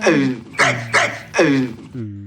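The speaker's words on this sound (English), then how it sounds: "Is that what? A little dog?" A string of high, yappy barks, four quick bursts in a row, close and loud, ending in a short whiny tone.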